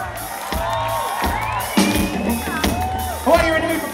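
Concert crowd at a rock show cheering, whooping and shouting loudly and steadily, with bursts of yelling swelling near the end; clapping is not clearly distinct within the roar.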